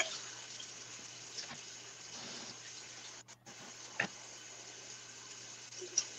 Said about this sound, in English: Look how that water's running.